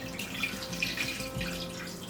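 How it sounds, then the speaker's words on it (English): Water pours and splashes quietly as more is added to a marigold dye bath to submerge a sweater, a soft, uneven trickle heard close up. "Just adding a little bit more water there to make sure the sweater is fully submerged."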